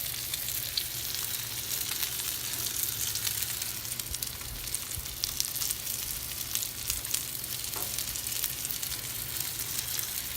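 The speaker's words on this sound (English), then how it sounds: "I'm gonna put a little pat of butter on it right there. And let that melt down." A pat of butter melts on a hot reverse-seared ribeye steak with a continuous, close sizzle. Faint crackles and pops run through the sizzle the whole time.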